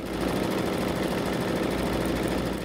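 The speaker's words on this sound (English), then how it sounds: "Embroider the design." An embroidery machine stitches a design into terry cloth for a kitchen towel, giving a steady, close, continuous mechanical whirring and rattling with no pauses and no voices.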